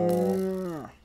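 A cow in the Minecraft video game gives one short, loud moo that slides down in pitch at the end, heard alone with no talk over it.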